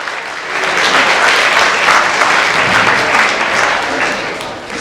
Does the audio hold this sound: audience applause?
yes